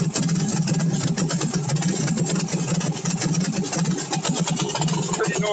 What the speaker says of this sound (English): Motor starts to even out.